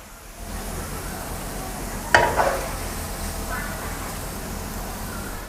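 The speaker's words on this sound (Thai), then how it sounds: "พอน้ำมันร้อนแล้วให้เราใส่กระเทียมโขกลงไป3ช้อนโต๊ะ เจียวไปเรื่อยๆจนกว่ากระเทียมจะเหลืองกรอบ" Crushed garlic, about three tablespoons, frying in hot oil, with a continuous close hiss and crackle of sizzling and a brief clatter of stirring partway through.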